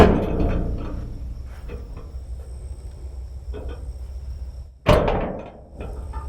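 A house door in a suspected haunted home being tried, heard as rattling and knocking handling noises followed by a sharp, loud bang near the end, close by with a faint steady insect-like whine in the background.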